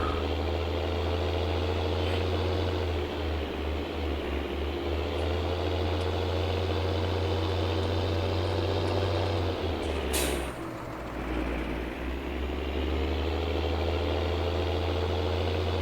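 A farm tractor idles nearby with a steady low rumbling engine drone that runs throughout, briefly dipping and catching a short hiss of air partway through before settling back into the same even idle.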